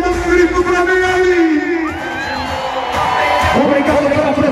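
Rodeo crowd at an arena event shouts, whoops and cheers in a loud, continuous roar, with scattered individual yells rising above the mass of voices.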